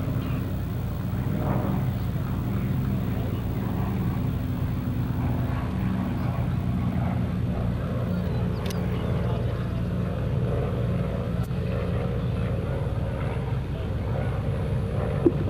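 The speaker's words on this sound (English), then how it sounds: "The SBD is actually going to get ready for a photo pass." An SBD dive bomber makes a photo pass at a World War II air show, its engine a continuous low, rough drone with wind buffeting throughout, steady and fairly loud.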